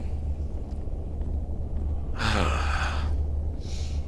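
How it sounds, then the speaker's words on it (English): Breathing noise in the SCP-087 infinite staircase video game: a deep, rushing exhale swells in over a low ambient rumble, followed by a shorter, fainter breath. "And I hate that breathing noise it always makes."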